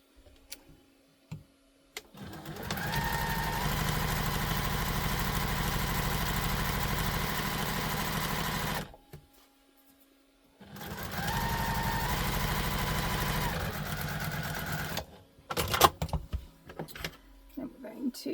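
A sewing machine back stitching a tote bag runs in two long, steady bursts separated by a pause, with an even mechanical whir and rapid ticking, close and clear, followed by a few handling clicks.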